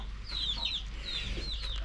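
Chickens roaming outdoors in a village cluck in a few short, close calls over a quiet background.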